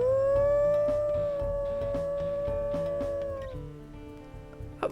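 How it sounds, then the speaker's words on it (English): A long, steady wolf howl from the video game WolfQuest holds one sustained tone for about three and a half seconds before fading, set over a continuous game music bed with a brief noise at the end. "that was the primary howl"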